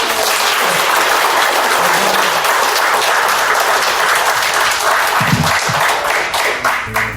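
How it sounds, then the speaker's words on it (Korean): A seated audience at a Korean research presentation gives loud, sustained applause, a dense continuous burst of many hands clapping with no talk over it. "격려하는 데서 크게 박수 한번 쳐주세요."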